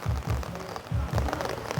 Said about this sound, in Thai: ตอนนี้ฝนตกอยู่